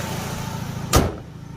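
A Honda City Type Z automatic's engine idles with a steady low hum, broken once by a brief sharp clunk near the middle.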